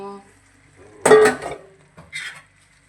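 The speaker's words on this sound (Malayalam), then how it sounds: "നമ്മൾ പിന്നെ നേരത്തെ ഫ്രൈ ചെയ്ത് വെച്ച കോളിഫ്ലവർ ഇതിലേക്ക് ആഡ് ചെയ്യുന്നു" Fried cauliflower tipped into a cooking pan and stirred with a spoon, giving a few sharp metallic scrapes and clatters close up in a quiet kitchen.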